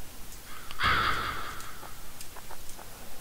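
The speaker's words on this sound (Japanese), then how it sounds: "もしかしてこのカラスって消えないの？" A crow in the video game LISA: the Joyful gives one loud, harsh caw that fades out, with a few faint game clicks before and after it over a low background hum.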